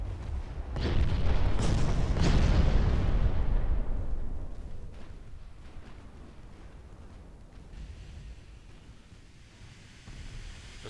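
A naval detonation in the warship game Ultimate Admiral Dreadnoughts gives a deep, rolling boom that swells over a few seconds and then fades into a long low rumble, with no voices.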